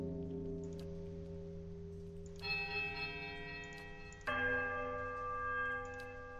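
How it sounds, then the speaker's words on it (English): Bells ringing in the video game Pillars of Eternity, layered sustained bell tones that swell in two distinct strikes over a low hum, with faint ticking and dripping in the background and no speech. "strange hush falls upon the room. Mutant sound of the bells and eternal drip"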